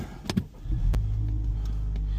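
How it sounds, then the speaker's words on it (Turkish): A car engine turning over and catching, then settling into a steady low idle close by, with no talking. "Arabayı çalıştıralım."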